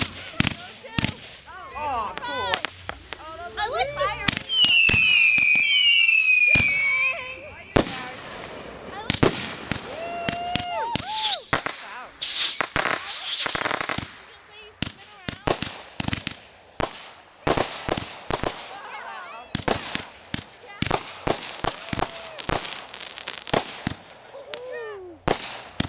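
Fireworks crackle and bang in rapid bursts at a home in Lyndonville, Vermont, with whistling rockets rising and sharp pops at close range, while people talk and exclaim over them.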